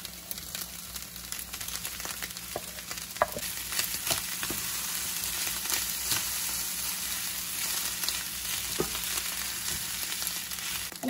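Rice and eggs frying together in a pan, a loud steady sizzle with frequent stirring scrapes and clicks over the whole stretch, no voices.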